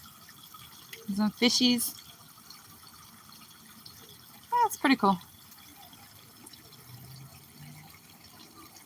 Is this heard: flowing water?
yes